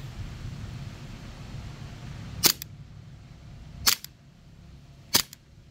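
A BB gun fired on semi-automatic, three sharp dry snaps spaced over a second apart, close and loud against a low background hiss, no talking.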